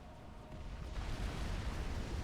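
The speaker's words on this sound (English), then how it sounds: "It will now go down to the Cypern nuclear explosion." A nuclear explosion in a real-time strategy game on the Seton's Clutch map, heard as a broad, low rumbling roar that swells after a second and holds steady, loud and dense.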